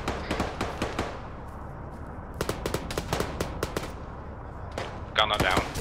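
Gunfire in the Arma 3 multiplayer Liberation mode: rapid bursts and single sharp shots crack close and far, clustering in volleys with brief gaps, over a low rumbling battlefield background.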